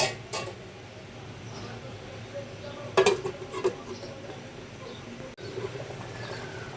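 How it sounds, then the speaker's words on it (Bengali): A lid is set over a pot of simmering rida fish and potato curry, giving a few short metallic clanks near the middle, close and fairly loud against a quiet kitchen background. "এখন আমি আবারও ঢেকে দিব"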